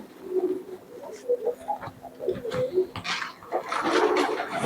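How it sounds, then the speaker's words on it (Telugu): A homer racing pigeon coos close by in a series of soft, low, throaty calls, with light rustling and handling noises in between. "ఇంకో పావురం అయితే తీశాడు ఈ పావురం పేరేంటి దీని పేరు అయితే హోమర్ అంటారు"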